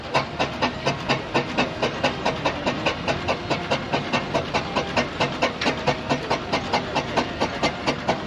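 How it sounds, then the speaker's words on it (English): A single-cylinder Fowler steam ploughing engine labours under strain at a steam fair, its exhaust beating in a loud, steady rapid chuff with hissing steam, close and continuous throughout. "So he's going to take up the strain with a single cylinder ploughing engine now."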